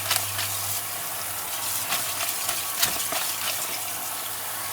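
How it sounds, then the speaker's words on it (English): Tap water gushes steadily over fish being washed in a kitchen sink, a close continuous splashing stream with brief sharper splashes as the fish is handled, no talking. "Make sure you wash the fish properly."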